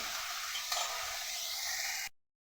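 Ginger garlic paste with turmeric and ground spices fries in a pan, giving a dense continuous sizzle with faint stirring underneath, steady and close, then cutting off abruptly into silence.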